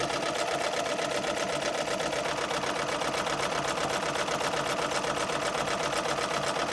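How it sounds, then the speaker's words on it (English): A Vacoma EM 1010 embroidery machine stitches out a sweatshirt design with a fast, even, continuous mechanical chatter, close and steady throughout without any talking. "And I'm stitching this out again on my Vacoma EM 1010 machine."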